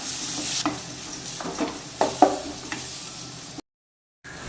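Tomato pieces frying with ginger and garlic in a pan for a pasta dish, a steady loud sizzle with stirring scrapes and a few sharp clatters, cut by a brief silence near the end.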